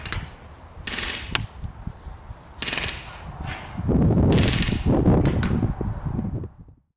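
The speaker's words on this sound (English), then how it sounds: "I decided to fire 4 quick bursts and see where the gels went" An ARP9 gel blaster fires several quick bursts of rapid clattering shots, each burst loud and close, separated by short pauses, with a final longer burst near the end.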